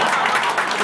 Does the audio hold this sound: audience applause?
yes